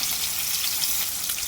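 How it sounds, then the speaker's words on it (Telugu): Fish fries in a pan, village style, giving a steady, close hiss of sizzling oil that carries on evenly without pause. "ఈ సైడ్ కూడా 2 నిమిషాలు ఫ్రై చేసుకొని చూపిస్తాను ఫ్రెండ్స్"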